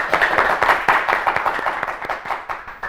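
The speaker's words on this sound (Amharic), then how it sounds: "በደንብ አድርጋችሁ አጨብጭቡ።" An audience at a children's televised show claps and applauds, a close, dense patter of many hands beating in a steady, lively rhythm that fades slightly toward the end.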